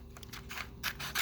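Scissors snip through paper while cutting out an eye shape, a few soft, close crisp cuts in quick succession in a quiet room.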